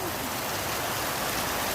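Heavy rain during a storm floods a workshop, a steady, dense hiss of falling and running water close by, unbroken and fairly loud.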